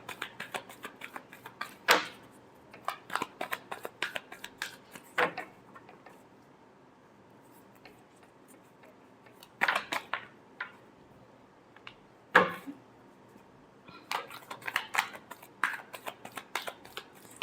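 Tarot cards being shuffled by hand, with repeated crisp riffling bursts in irregular clusters separated by quiet pauses, close and fairly soft.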